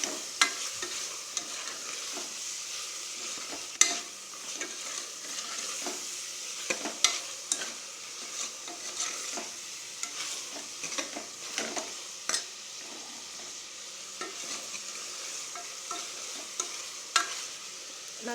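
Mutton pieces are stirred with chilli powder, curry masala and salt in oil for a Tamil mutton kuzhambu, giving a soft sizzle under repeated scraping and clinking spoon strokes against the pot in an irregular rhythm, close by with no talking.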